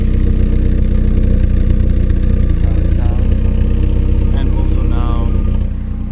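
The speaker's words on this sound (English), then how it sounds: "this is how the exhaust sounds." Loud, close rumble of a Mk1 Velociti car running with an upgraded exhaust, a steady throbbing idle with slight variations before easing off near the end.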